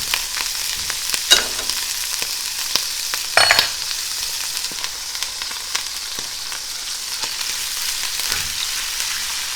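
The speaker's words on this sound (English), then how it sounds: "now let's get some pesto in this pan for these shrimp" Shrimp frying in pesto in a pan, a steady close sizzle with scattered crackles and a few louder pops and stirring clatters, no voices.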